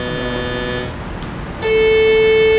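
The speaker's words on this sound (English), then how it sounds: "This is a saw wave." A bright, buzzy synthesizer saw wave tone with rich overtones sounds, drops out briefly, then returns as a louder, steady note.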